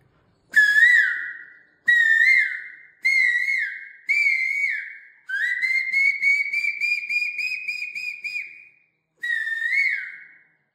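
A voice imitates a cuckoo, whistling a series of clear, rising two-part calls, several short bursts and one long sustained stretch, loud and close.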